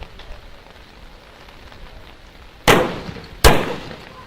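Two sharp, loud gunshots during a military assault, spaced under a second apart over a steady background hiss, each with a short echoing tail.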